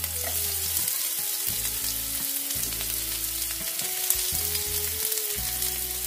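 Two onions tossed into hot oil in a pan fry with a loud, continuous crackling sizzle that stays steady throughout, with no talk over it.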